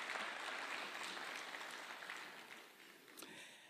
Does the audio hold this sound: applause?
yes